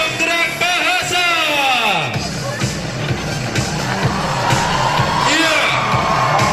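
An audience at an Islamic boarding school orientation event cheers, whoops and claps loudly, with sliding shouted voices over a continuous crowd roar.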